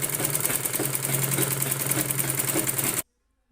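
A sewing machine stitching a folded strip on the back of a four-tuck blouse, running in a loud, steady, rapid mechanical whir close by for three seconds before cutting off abruptly into silence.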